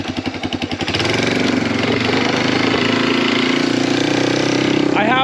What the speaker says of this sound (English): Let's go for a rip on the old trike, the old tree wheeler.